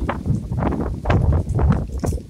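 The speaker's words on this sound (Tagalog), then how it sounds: "Lakas ng hangin." Strong wind buffets a nearby microphone in rough, low rumbling gusts that surge and fade several times, with no voices.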